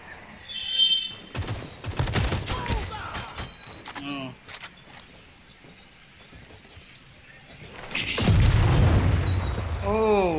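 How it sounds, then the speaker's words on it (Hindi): Gunfire in an online shooting game comes in bursts of sharp cracks and booms, loudest near the start and the end, with a quieter stretch between, under excited talk from players. "यहाँ चल रहा है गोलीबारी"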